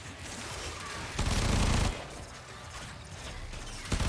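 Rapid automatic gunfire in the Warframe video game, a dense continuous stream of shots with a louder burst in the middle, close and steady with no talking.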